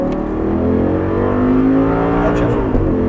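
An Audi R8 accelerating on a racetrack under throttle, its engine note loud and close, rising steadily in pitch as it revs with no pause.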